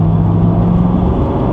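A 1991 Pontiac Firebird Formula's engine roars loud and close as the car accelerates hard, a steady low, rumbling drone with no voices over it.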